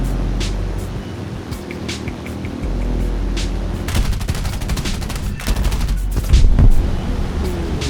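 Aircraft guns fire in bursts during a World War II-style air combat game, with a slow Condor bomber as the target; rapid cracking volleys stand out over a steady engine drone, heavier toward the end.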